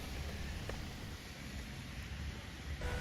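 Heavy rain pours down in Kanpur, Uttar Pradesh, as a dense, steady hiss of falling water that stays loud and constant throughout, with no voices.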